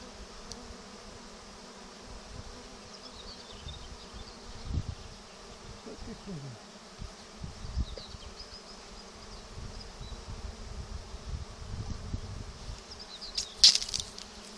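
A dense, continuous hum of a honeybee swarm buzzing together, low and steady with occasional louder passes close by.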